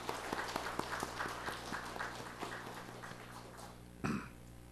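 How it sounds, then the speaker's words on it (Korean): Church congregation applauding during a Sunday morning worship service, a steady run of claps at moderate distance that fades out, ending with a brief cough or throat-clearing. "그리고 다시 한번 우리 격려의 박수 드리시기를 바랍니다"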